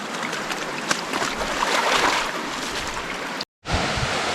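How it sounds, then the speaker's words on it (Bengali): Wading through river water on a trek in the Yelbong River canyon, West Bengal: a steady, close rush of flowing and splashing water that cuts out briefly near the end, with no talking. "পুরো জলের মধ্যে দিয়েই যাচ্ছি।"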